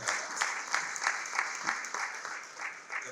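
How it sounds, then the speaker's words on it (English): A breakfast-meeting audience claps for a special guest speaker, the CEO of a youth forum, with steady, fairly quiet applause and rhythmic bursts of hand claps throughout. "Can clap for him as a special speaker."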